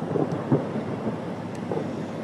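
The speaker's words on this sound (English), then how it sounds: "Heard the thunder just rattle" Low thunder rumbles during a rainstorm, with soft rain hiss and some wind on the microphone. The rumble is faint and distant and rolls for a couple of seconds, with no one speaking.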